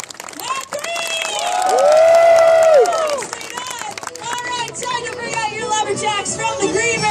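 Outdoor crowd at a lumberjack show with axemen cheering and clapping, swelling to a loud roar with whoops and whistles, then settling into continued applause and babble.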